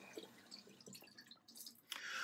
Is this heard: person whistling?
no